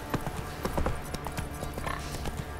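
A horse's hooves clip-clop in The Witcher 3: Wild Hunt, a rapid, steady run of hoofbeats over a busy town ambience with faint voices.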